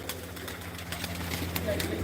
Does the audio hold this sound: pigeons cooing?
yes